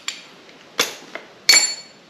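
Swivel head ratchet being handled from an emergency tool bag, giving three sharp metallic clinks spaced apart with a fainter tap between the last two, close and clear.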